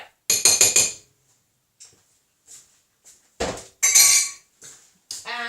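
Metal spoons and cutlery clink against dishes and pans during home cooking of a lasagne, a quick burst of rattling at the start followed by scattered sharp clinks and clatters, close and fairly loud, with no talk.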